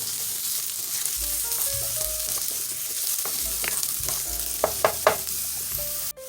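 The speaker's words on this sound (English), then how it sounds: "we're going to add in our minced garlic. And you're going to let that saute in for 1 minute" Minced garlic sautéing in a pan for lasagna roll-ups: a steady, close sizzling hiss runs throughout, broken by a few sharp spatula scrapes and clicks near the end, with no talking.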